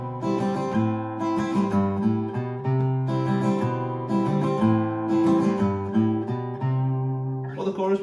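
Acoustic guitar strumming, with a short bass-note run woven between the strummed chords, plays steadily and close up in an even rhythm.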